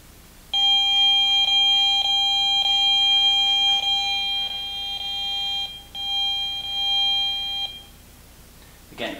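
A handheld radiation meter reacting to a strong wireless signal from Bluetooth devices gives a rapid, steady chain of high electronic beeps for about seven seconds, then falls quiet.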